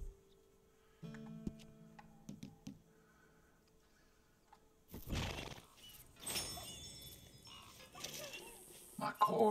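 A horse in Red Dead Redemption 2 whinnies and snorts amid game sounds, with short thuds and rustles after a quiet, tonal stretch, the loudest bursts coming in the second half.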